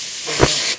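A spray bottle mists water during a haircut at a barber's chair, heard as a single close, loud hiss lasting about half a second before cutting off.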